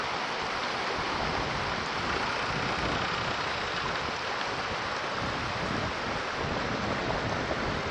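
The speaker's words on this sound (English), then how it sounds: "Here's the river, comes downstream through all this rough rock." A river rushing downstream through rough rock, a steady broadband roar of turbulent water filling the scene without a break, loud and close, no voices.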